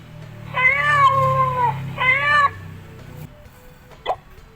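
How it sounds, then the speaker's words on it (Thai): Two drawn-out cat meows, the first long and the second shorter, clear and close with no talk, followed by a brief faint click. "แมว cat"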